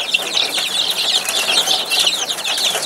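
A brood of about fifty young chicks fed on starter feed, chirping and peeping continuously in a dense, high overlapping chorus close by.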